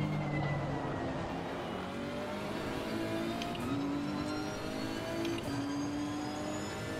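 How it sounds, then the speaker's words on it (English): A race car engine in the video game Assetto Corsa Competizione drones steadily throughout, with rising and falling harmonic tones as it shifts through gears, loud and continuous with no talking. "Yeah, car sounds are very good"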